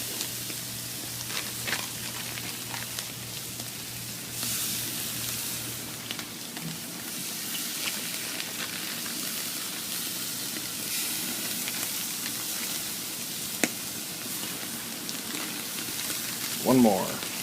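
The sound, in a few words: shrimp sizzling on a grill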